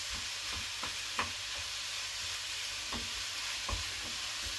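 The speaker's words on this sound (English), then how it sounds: "I'm just going to fry this up a little bit to get it all nicely sautéed" Sugo ingredients fry and sauté in a pan with a steady, close sizzle, while scattered scraping and stirring clicks from the utensil break through at irregular intervals.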